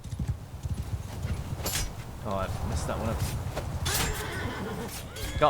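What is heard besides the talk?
cavalry horses galloping and neighing in video game Bannerlord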